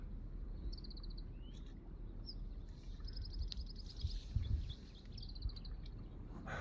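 Distant birds call now and then, with short chirping bursts over steady low rumble from far-off railway and truck traffic.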